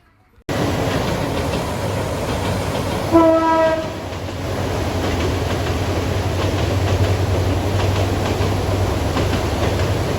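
A train passes beside a fishing spot at Begunbari sluice gate in Mymensingh: a loud, continuous rumble and rail clatter, with a brief blast of the train horn partway through.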